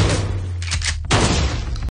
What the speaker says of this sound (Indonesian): tiba-tiba datang si penjaga hotel dengan menembakkan senjata pedil